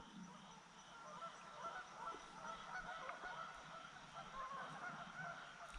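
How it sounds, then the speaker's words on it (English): Geese honk faintly from far away, a scattered series of calls drifting over quiet outdoor ambience near water. "Can hear some geese way down there."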